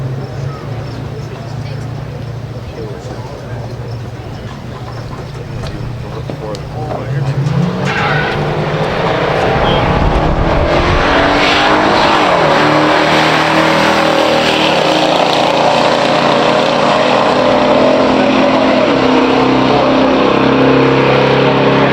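Idling engines rumble, then a 1971 Dodge Charger R/T and a 1971 Chevelle SS 454 in stock form launch with a loud roar and tire squeal, engines screaming steadily as they race down the drag strip.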